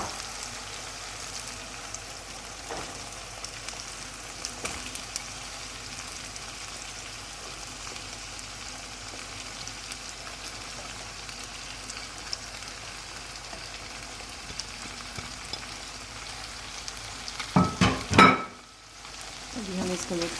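Garlic chicken and vegetables fry in a pan with a steady, moderate sizzle throughout, and a few louder clattering stirs near the end.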